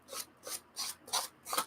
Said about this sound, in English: You can scrape that off and use it again.